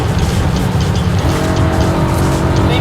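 A BMW M3 driven hard around the Nürburgring, its engine roaring loud and steady while the tires squeal through a corner, a thin high whine rising over the continuous drone.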